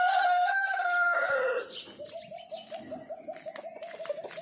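Farm chickens and a rooster: a loud, close crow opens, then gives way to a run of rhythmic clucking with scattered softer bird calls behind it.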